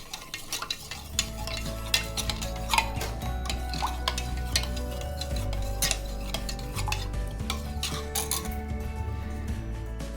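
A spoon stirs salted mint lemon juice in a glass, giving quick, repeated clinks and scrapes in an uneven rhythm, close and fairly quiet throughout.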